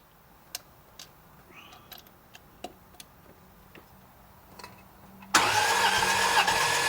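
A Ferrari F430 sits quietly with several sharp isolated clicks and taps during a compression test, then the starter engages abruptly near the end and the engine cranks in a loud, steady whirring drone.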